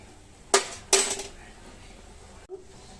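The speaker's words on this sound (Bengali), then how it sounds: "আমি অলরেডি স্পুন দিয়ে ঘেঁটে দিচ্ছি।" A spoon stirs spicy Korean instant noodles in a pot, giving two sharp clinks against the metal close by, then a quiet stretch with a soft knock near the end.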